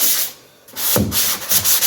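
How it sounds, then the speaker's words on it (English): Rough sanding of a drywall corner joint makes short, loud abrasive rasping strokes, rubbing back and forth after a brief pause, with no voices. "rough sanding"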